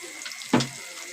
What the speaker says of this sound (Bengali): মশলাটা কষানোর জন্য সামান্য একটু জল দেব।